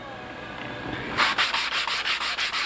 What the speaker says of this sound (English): you just keep putting in and keep sanding the edges till you have a perfectly tight fit